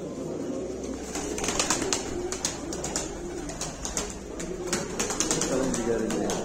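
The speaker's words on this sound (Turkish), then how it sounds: "Muazzam oyun kuşlarımız gelmiş bugün." Domestic game pigeons coo in soft, repeated rolling calls close by, with a voice talking over them throughout.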